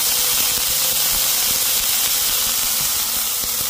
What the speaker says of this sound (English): Take my smasher, I'm gonna smash that way down.